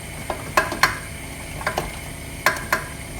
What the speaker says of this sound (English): you're going to keep whisking this